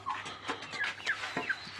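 Hens clucking in a farmyard flock, a few soft, close, irregular clucks and short squawks over about two seconds, with no talking.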